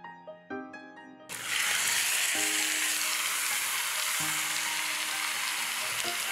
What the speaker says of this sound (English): Now we'll add the beef.